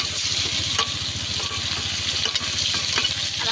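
Whole cumin seeds and onion fry in hot oil, giving a dense, steady sizzle up close with a rapid crackle and occasional faint scrapes of stirring.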